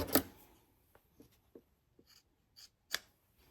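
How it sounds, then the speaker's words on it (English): Scissors snipping through a quilt binding fabric strip, a few faint crisp cuts and small clicks spread sparsely across a quiet room, with no voices. "take your binding and run it down to where your stitches start and cut it right there"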